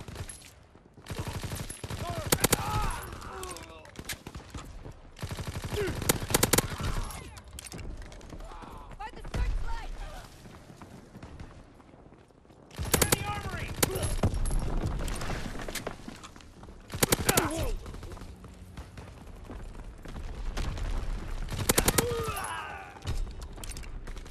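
A silenced PPSh-41 submachine gun fires in Call of Duty WWII, with loud, dense bursts of rapid automatic shots in several clusters separated by short pauses, along with game footsteps and background combat noise.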